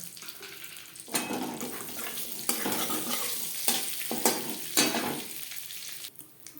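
Panch phoron, a Bengali five-spice mix, dropped into hot oil left from frying rohu fish, bursting into a loud close crackle and sizzle with bursts of stirring that fade near the end.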